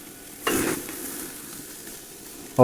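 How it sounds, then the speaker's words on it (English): A short burst of sizzling from a steak on an 800-degree grill flares up loudly, then settles into a quieter crackling hiss that continues to the end. "Look at that sizzle."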